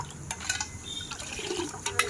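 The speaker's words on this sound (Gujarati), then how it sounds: "આમાં ગ્લાસમાં શરબતને પાણી ભરવાના છે" Rose sharbat is poured into a glass in a short, quiet liquid trickle with a few splashy bursts, and no talking.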